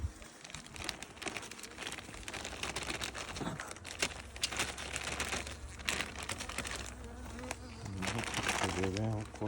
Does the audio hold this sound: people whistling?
no